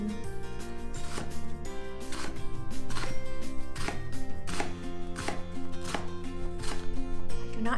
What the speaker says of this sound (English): Chop our onion.